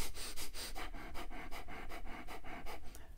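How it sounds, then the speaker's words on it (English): Fire breathing, a yoga-style exercise of rapid forceful breaths in and out through the nose driven by the belly: quick rhythmic huffing pulses about four per second, close and steady for three seconds. "We call this fire breathing. It sounds like this."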